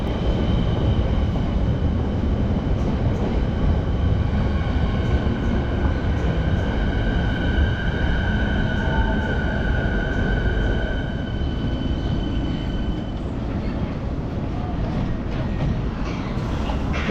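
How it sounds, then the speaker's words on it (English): Steady loud rumble of a 2004 Siemens electric multiple unit train running in Melbourne, with a whining motor tone rising and fading over a continuous rolling roar. "Here's our train, a Siemens EMU, which entered service in"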